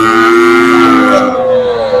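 A Jersey cow at a busy rural cattle market gives one long, loud, close moo that slides downward in pitch and fades near the end.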